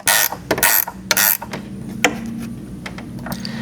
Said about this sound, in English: And now we're going to tighten the nuts on the bottom.